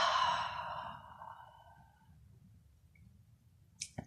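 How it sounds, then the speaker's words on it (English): A single deep breath drawn out as a long, audible sigh, loud and close at first, then fading over about two seconds into quiet room noise. Faint clicks follow at the end. "let's take a few deep breaths for the beginning"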